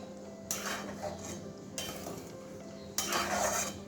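Spices with Kashmiri red chilli powder being stirred in a pan, three separate bursts of metal utensil scraping and clinking against the pan over a soft sizzle, close and fairly loud, with no talking.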